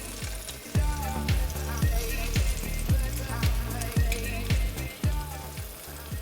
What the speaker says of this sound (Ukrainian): і тепер просмажую іншу сторону